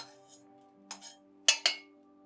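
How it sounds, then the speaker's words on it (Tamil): Ingredients for homemade idli podi drop into a mixer grinder jar with a few light, sharp clinks and taps, the last two loudest, over a faint steady electrical hum in a quiet kitchen. "இதை அப்படியே மிக்சி ஜாரில் போட்டுக்கிறேன்"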